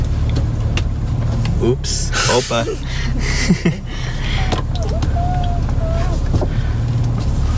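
Car being driven, with a steady low engine and road rumble throughout, while people talk and exclaim over it.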